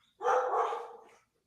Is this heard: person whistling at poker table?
no